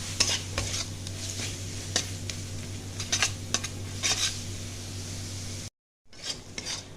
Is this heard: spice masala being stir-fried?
yes